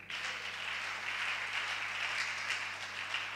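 A church congregation applauding at a Pentecost service, a dense continuous wash of clapping that holds steady and fairly loud throughout, with a faint low hum underneath.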